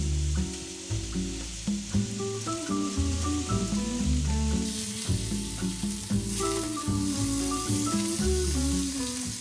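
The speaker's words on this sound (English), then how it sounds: "now it's time to just sear them for a little bit" Marinated chicken tenders sear in a pan with a steady, close sizzle of frying throughout, accompanied by music with a strong rhythmic beat.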